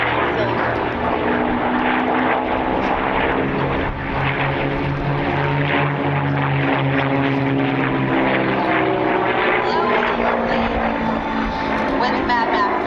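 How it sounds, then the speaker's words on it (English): A 1945 dual-control, dual-cockpit TF-51 Mustang warbird flies past at an air show, its piston propeller engine droning loud and steady throughout, a continuous rumbling roar with a slight shift in pitch as it passes. "Mad Max is a dual-control, dual-cockpit TF-51 Mustang"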